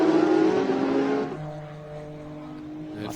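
GT race cars at a World Challenge America race at COTA accelerate loudly on the track, a roaring engine note that fades after a second into a lower, steadier drone.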